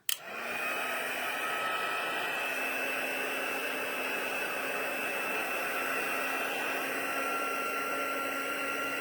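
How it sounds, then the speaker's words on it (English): A heat gun blows steadily for about nine seconds, warming and melting embossing powder during a heat embossing craft demonstration; a loud, constant hair-dryer-like whoosh with a faint steady whine, starting abruptly and running alone with no talk. "If you're one of those that's never done embossing, the heat embossing, it's just so much fun when it starts turning and melting."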